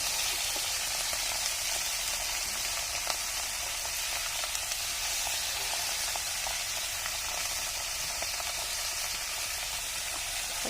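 Cabbage and potato sizzle and crackle in a hot pan with a loud, dense, continuous frying hiss that runs unbroken from start to finish.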